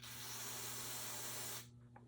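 Carburetor choke cleaner sprays from an aerosol can in one continuous loud hiss for about a second and a half, then stops abruptly, leaving a faint low hum.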